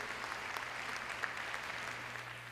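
A town hall crowd at a Chicago Public Schools community meeting applauds an alderman seated in the front row, giving steady, moderately distant clapping throughout without anyone speaking over it.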